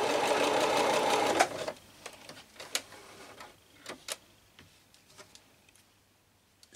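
A sewing machine stitching along the edge of a trouser hem runs in a loud, close, steady whir for about a second and a half, then stops, followed by scattered small clicks and taps of fabric handling.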